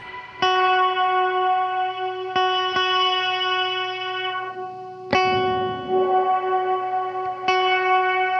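A Death By Audio Rooms reverb pedal with depth turned all the way down, set to a smooth reverb, rings out sustained tonal chords that are struck several times and left to swell and decay, loud and alone.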